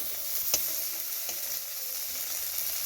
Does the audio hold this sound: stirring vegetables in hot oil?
yes